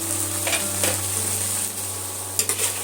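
Aloo posto, potatoes cooking in a covered pan, sizzles steadily while a spatula stirs them, with a couple of clear scraping knocks against the pan near the end and no talking.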